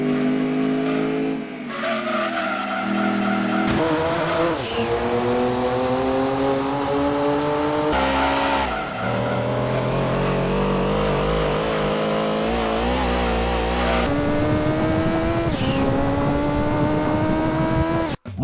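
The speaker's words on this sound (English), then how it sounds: "And then there are the engine noises." Racing cars from Gran Turismo 2, the 1999 PS1 game, rev hard and change gear again and again, with rising engine whines, sudden pitch drops and tyre squeal that stay loud and continuous throughout.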